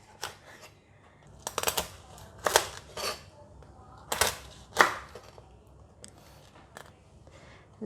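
Knife cutting through crispy air-fried roast pork belly (siew yoke), giving a series of sharp crackling crunches in irregular bursts, close and moderately loud, with quiet pauses between cuts.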